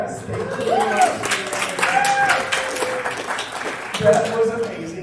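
Applause from a church congregation during a Sunday service fills the room, with steady clapping mixed with people talking and a few voices rising over it.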